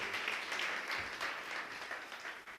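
A church congregation applauds the Lord during a sermon, with a steady wash of many hands clapping, fairly distant and faint, fading slightly toward the end.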